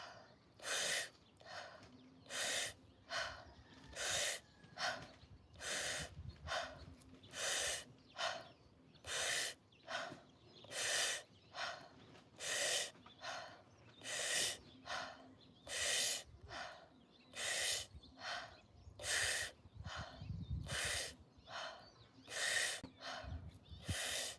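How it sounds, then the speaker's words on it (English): Guided Wim Hof method breathwork session: a long run of deep, rapid breaths, each sharp inhale and exhale repeating in steady rhythm, close and loud, with no talking over them. "Settling into your body, and in 3, 2, 1, Wim Hof breaths."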